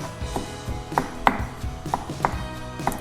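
Chili paste ingredients for a Thai stir-fry of young jackfruit are pounded in a mortar, giving a steady series of about five sharp thuds at a slow, even rhythm with no one speaking.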